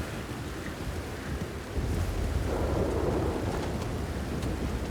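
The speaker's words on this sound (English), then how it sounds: "just because it's dark and rainy at the moment." Steady rain hisses with a low rumble of thunder during a dark storm in the video game Red Dead Redemption 2, a dense continuous wash that swells slightly partway through.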